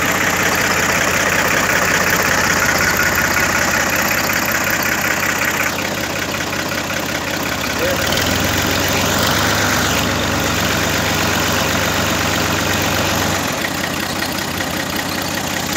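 A 2012 Al-Ghazi tractor engine idles continuously and loudly, with a low throbbing drone and slight shifts in tone, no voices.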